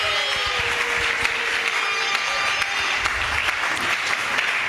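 Church congregation applauding and cheering loudly, dense sustained clapping with shouts and whoops filling the hall throughout.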